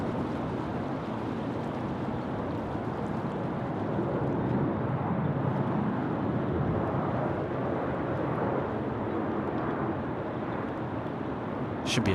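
Jetstar airliner departing runway 34 right at Sydney Airport: a broad, steady jet roar, heard from a distance, that holds through the whole stretch and swells slightly in the middle, with no talking.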